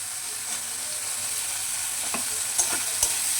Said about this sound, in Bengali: নারকেলটা একটু হালকা করে ভাজা ভাজা করে নেব।